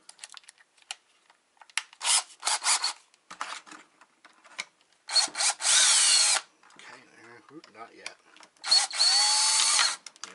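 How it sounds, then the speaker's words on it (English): A power drill whines in short bursts, then two longer sustained runs grinding into metal rivets on a dimmer and ceiling fan control, close up, with brief speech between. "I'm actually going to try and drill those out."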